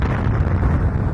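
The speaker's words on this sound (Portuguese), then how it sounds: "Como mais de 400 ogivas russas foram detonadas em explosões poderosas" A powerful explosion from a nuclear warhead detonation booms as a dense, rumbling blast that fills the short moment with heavy low roar and no pauses.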